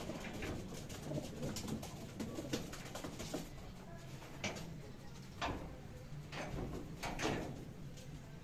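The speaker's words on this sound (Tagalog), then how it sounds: "Pang-apat na ibon natin to" Racing pigeons coo repeatedly at a loft after a 372 km derby race, soft throaty calls rising over a faint, steady background murmur, fairly distant and low in level.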